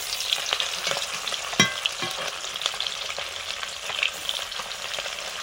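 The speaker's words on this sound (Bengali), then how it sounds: "বন্ধুরা এবারে মাছ ভাজা শুরু করছি।" Salted fish, a Japanese punti and another small freshly caught fish, frying in hot oil, a steady close sizzle and crackle with a few sharp pops and a clink of a utensil, no voices.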